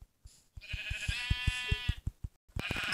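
Sheep in the video game Minecraft bleat in a short series of close, clear calls, layered over steady rhythmic thumping footsteps, with a brief pause before another bleat and more steps.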